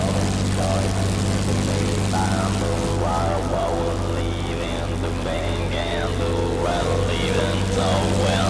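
A Dornier Do 335A Pfeil in a World War II flight game drones with a steady, loud piston-propeller engine roar that holds through the whole stretch, with a voice speaking over it.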